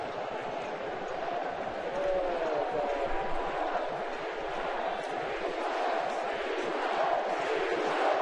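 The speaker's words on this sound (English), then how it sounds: "The crowd is chanting replay." Dense, steady roar of a baseball stadium crowd during an October 2010 ALDS playoff game, with a rhythmic group chant rising out of the noise and continuing throughout.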